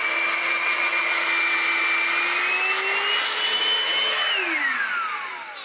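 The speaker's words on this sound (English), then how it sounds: "The actual suction motor in this is 100 watts, so yeah, never gonna do much at all." A cheap Vytronix NC22 cordless vacuum cleaner with a 100-watt suction motor runs alone in a steady, close whine. Near the end its pitch drops as it winds down and the sound fades.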